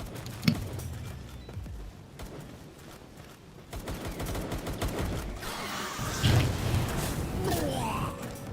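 Gunfire in the video game Palworld, bursts of rapid shots amid game noise and clatter, moderately loud and continuing across the scene while a voice talks over it.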